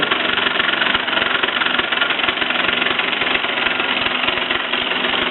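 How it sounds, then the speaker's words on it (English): Mamod SE2 toy steam engine running with a loose rattle: a steady, close, continuous mechanical knocking and chatter with no pauses, suggesting something needs tightening or lubricating. "It's a little bit rattly, probably maybe something needs tightening or a little bit more lubricant."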